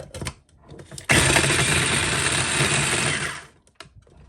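A tiny food processor blends strawberries in one loud, steady burst lasting a few seconds, with handling clatter before and after.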